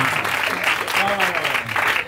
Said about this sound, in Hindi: पहले तो इनके लिए जोरदार ताली बजाए और ईमानदारी से बजा दे